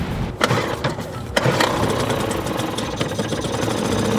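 A small 3-horsepower outboard boat motor runs steadily and close by, a continuous buzzing drone with a couple of sharp knocks early on, and no talking.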